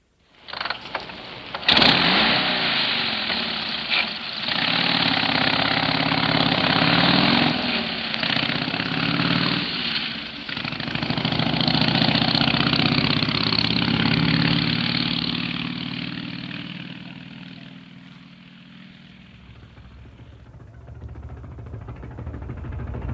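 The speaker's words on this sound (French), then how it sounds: "nous prenons aussi ta moto" A motorcycle engine runs steadily nearby with a throaty drone, a brief revving swell early on, then settles and fades slightly toward the end.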